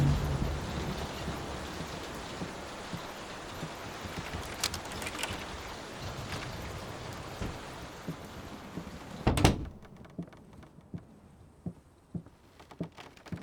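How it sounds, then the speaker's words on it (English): A rainstorm in the horror video game Layer of Fear: steady heavy rain with scattered knocks and a sharp crash near the end, then the downpour drops away to quieter room tone with a few faint taps. "Will this storm ever run out of rain?"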